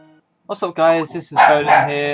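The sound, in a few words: dogs barking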